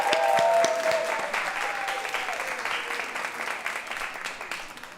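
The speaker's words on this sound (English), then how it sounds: "Y'all keep clapping till the artist gets up to the stage." A crowd at an open mic applauds steadily, many hands clapping at once, loudest at the start and gradually tapering off, with some whoops mixed in.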